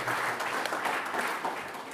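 Audience applause for an 80th birthday at a European forum in Vienna, a steady wash of clapping hands throughout with no talk over it.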